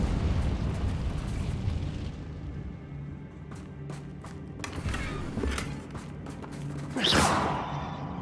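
A Confringo fire spell cast in Hogwarts Legacy, with whooshing blasts and booming bursts, one loud explosive swell near the end, over a busy game soundscape.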